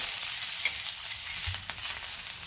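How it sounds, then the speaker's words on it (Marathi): Green chilies, roasted gram dal, ginger and garlic sauté in hot oil with a continuous bright sizzle, close, with a brief stir near the middle. "हिरवी मिरची, फुटाण्याचं डाळ आणि पुन्हा 1 मिनिटभर चांगलं परतून घ्यायचंय"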